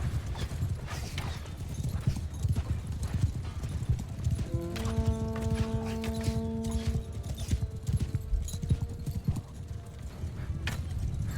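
Horse hooves clip-clop steadily through a video game, with a whinny-like tonal call partway through, all under a continuous bed of game sound.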